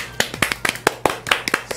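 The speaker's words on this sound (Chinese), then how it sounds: "好听，掌声呢。" Applause after a song on a music talk show, heard as a few sparse, uneven hand claps close by, each one a sharp, separate smack rather than a dense ovation.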